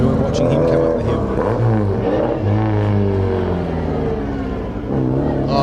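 A GT racing car's engine roars loudly and continuously as it climbs a hill at the Legend of the Lakes Hillclimb, with revs rising and falling between gear changes under a commentator's talk.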